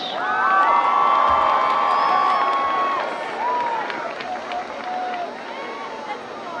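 A crowd in the stands at a high school football game cheers, whoops and shouts loudly, with children's voices prominent and some clapping under the din, while a voice carries over the noise.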